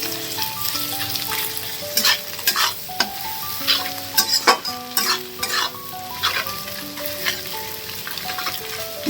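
Egg bhujia being fried and stirred with a spice mix in a pan, a steady sizzle broken by repeated scraping strokes of the spoon at close range, with no talking.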